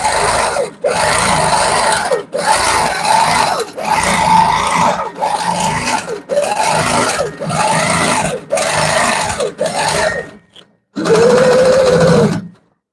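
A sewing machine does freehand quilting on a quilt in about nine loud, close bursts of rapid stitching, separated by short pauses, with a brief quiet gap before the last run.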